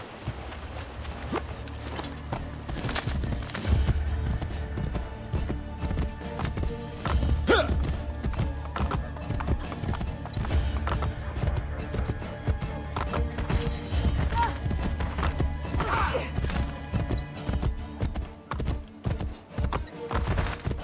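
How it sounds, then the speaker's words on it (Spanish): Horse hooves clip-clopping steadily in the Assassin's Creed Brotherhood video game, mixed with ambient game sounds and background music, moderately loud throughout. "Anda, mira, ahí está el caballo."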